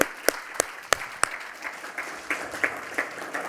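A conference audience at an ESG event claps, sharp individual claps at first fading into a scattered, thinning round of applause in a large room.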